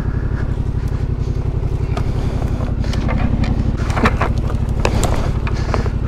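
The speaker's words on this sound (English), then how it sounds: "I'm just trying to turn my bike around here" Off-road motorcycle grinding slowly through thick lantana brush, a steady low engine drone close to the microphone with occasional crackles and snaps of branches.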